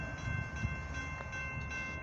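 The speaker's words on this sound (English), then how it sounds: "We got a train coming. We got an eastbound train coming." An eastbound mixed freight train approaches a railroad crossing with a steady low rumble and faint rail noise, moderately distant, with no talk.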